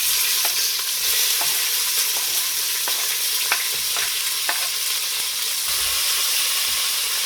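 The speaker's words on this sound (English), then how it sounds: "we're going to wait for these onions to get translucent and cook through" Chopped onion frying in a pan for a Kerala-style dish, giving a steady, loud sizzle with occasional soft stirring scrapes and small pops throughout, heard alone with no talking.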